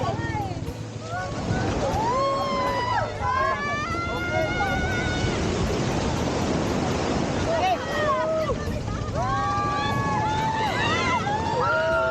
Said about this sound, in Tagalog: Masarap ang alon. Ang lakas.